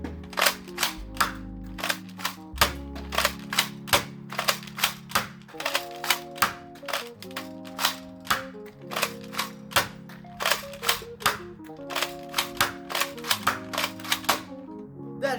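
A DartZone Nexus Pro foam dart blaster fires in quick, regular bursts of sharp plastic clicks over a steady whirring motor tone, repeating close and clear for about fifteen seconds with no talk.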